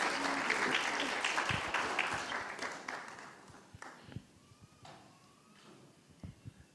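An audience at a Hare Krishna initiation ceremony at Bhaktivedanta Manor claps in a short round of applause that starts full, thins out into scattered individual claps and fades within seconds.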